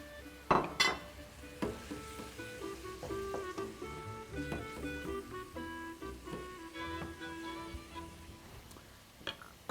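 Chopped tomato going into a hot pan: a soft sizzle runs under repeated clinks and scrapes of a utensil against the pan, with a few louder knocks.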